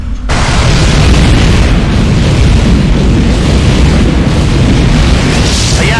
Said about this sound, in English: There's been some kind of explosion.